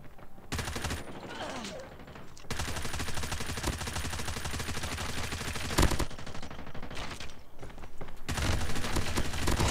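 Akimbo Chopper machine guns hip-fire in a shooter game, long sustained bursts of rapid loud gunfire broken by short pauses, with heavier fire returning near the end.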